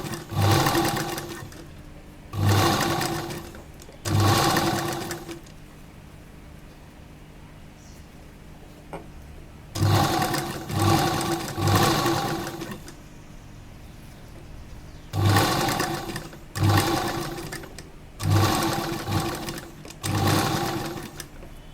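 A sewing machine runs a kurta edge in a series of short bursts, each a couple of seconds of rapid stitching separated by quiet pauses, close up and without talk.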